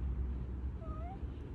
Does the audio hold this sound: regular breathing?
no